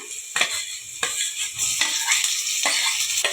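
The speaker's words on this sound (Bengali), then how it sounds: "এবার মশলাটা ভালো করে কষে নেবো" Onion, turmeric, ginger, garlic and tomato masala sizzles steadily in hot oil, with a spoon scraping and stirring through it in repeated strokes every second or so, close and continuous with no talking.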